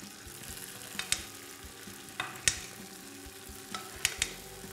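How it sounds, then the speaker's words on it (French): Mashed yam reheated in plenty of butter in a pan, with a quiet, low sizzle broken by a handful of bright spatula clicks and scrapes spaced a second or so apart. "Alors là, on va la repasser légèrement dans le beurre"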